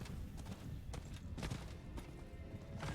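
A horse gallops in Diablo 4, its hooves clip-clopping in a steady quick rhythm at moderate volume, close by and without talk.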